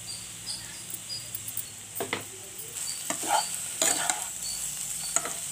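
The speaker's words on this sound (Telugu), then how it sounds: "ఇలా కారం మొత్తం కలిసిలాగా తిప్పుకోవాలండి" Banana pieces fry in a pan as chili powder is stirred in, a soft steady sizzle with scraping spoon strokes and light clinks against the pan.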